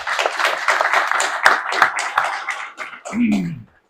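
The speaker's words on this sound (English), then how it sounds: "just a quick round of applause for our speakers today" A brief round of audience applause for the speakers on a panel: a busy wash of clapping with a few sharp claps standing out, fading after about three seconds as a voice starts talking.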